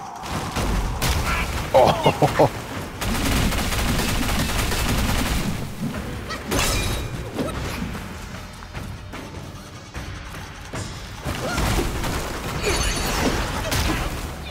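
An enemy in Black Myth: Wukong fires at the player in repeated rapid bursts and thudding blasts, loud and intermittent, while a man lets out a short exclamation.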